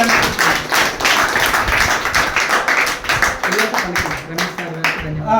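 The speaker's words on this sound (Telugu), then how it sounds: "ఈ సందర్భంగా మనం రమేష్ గారికి గట్టిగా ఒకసారి క్లాప్స్ చెప్పి" Audience at a talk on Karna from the Mahabharata applauding Ramesh, dense continuous clapping from a crowd of many hands, loud and close, tapering slightly toward the end.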